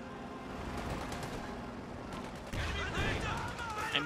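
Bursts of gunfire in the game Company of Heroes 2, machine-gun rattle among battle noise, mixed under a continuous commentator's voice.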